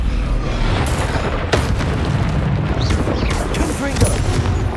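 A Descendo spell cast in the video game Hogwarts Legacy, a heavy booming slam within dense, loud combat noise with crackling impacts.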